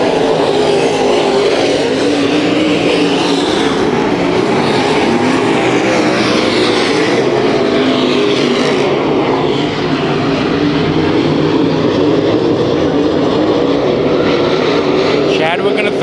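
Race cars roaring around Kings Speedway during a heat race, a loud, sustained engine drone that swells and fades as the cars pass, with an announcer talking over it.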